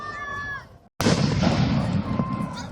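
Fireworks going off at a fair: a thin tone fades into a brief hush, then a sudden loud blast gives way to a heavy, sustained rumble and crackle close by.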